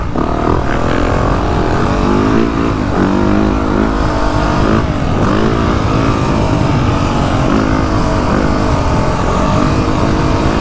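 A Yamaha YZ450F dirt bike engine roars continuously on a motocross track, loud and close, with the revs climbing and dropping through throttle changes and no talk.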